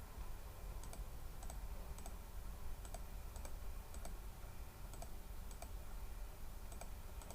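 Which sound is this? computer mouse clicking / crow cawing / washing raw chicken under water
computer mouse clicking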